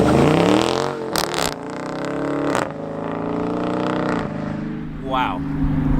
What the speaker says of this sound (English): I'm gonna back up to this fence over here and do a hard acceleration.